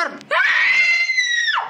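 A person lets out a single long, loud, high-pitched scream that rises, holds steady and then drops off at the end. It is close and sounds alone.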